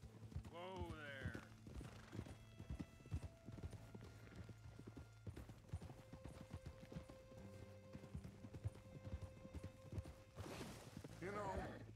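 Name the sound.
horse hooves clip-clopping while riding in video game Red Dead Redemption 2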